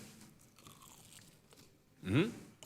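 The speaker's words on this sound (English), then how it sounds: "Nice crunch. Crunchy, tasty, yummy, bacon." Someone bites into a crunchy bacon and cheese dipper, giving one loud, close crunch near the end after a stretch of quiet.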